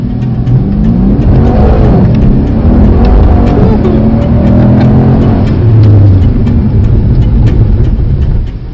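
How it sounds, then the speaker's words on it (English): A Mercedes-AMG C63 S accelerates hard on a track at Mercedes-Benz World UK, its engine roaring loud and close in a sustained, rising pull with faint tyre and wind noise. "We'll accelerate as hard as we can."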